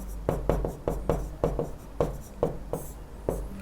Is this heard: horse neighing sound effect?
no